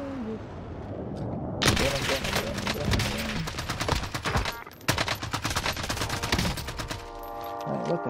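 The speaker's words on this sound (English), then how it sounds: "They're shooting at you?" Video game gunfire in rapid sustained automatic bursts, loud and dense, with a short break midway and a trailing metallic ringing near the end.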